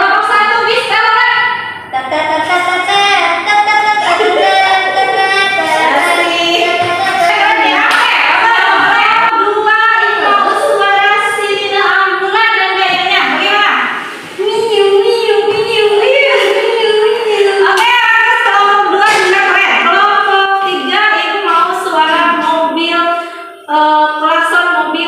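A group of children imitate an Indonesian 'telolet' bus horn with their voices, chanting loud, melodic, repeated sing-song phrases in unison, with brief pauses and some hand clapping.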